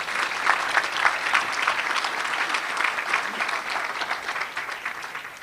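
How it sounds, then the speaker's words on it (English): An audience at a community awards event breaks into a sustained round of applause, many hands clapping evenly for several seconds at moderate distance, fading slightly toward the end. "Let's give them all another round of applause."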